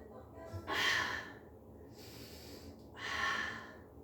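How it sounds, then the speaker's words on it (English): Breathing during a pilates mat workout: two loud, breathy exhalations about two seconds apart, close to the microphone, with quiet room tone in between. "Take a couple of just normal breaths"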